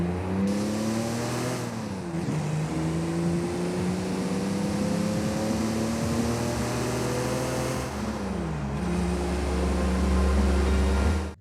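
A stock Toyota 4Runner engine in Forza Horizon 5 drones steadily, with a low idle rumble and whining harmonics that dip and rise twice as the revs shift, loud and continuous throughout.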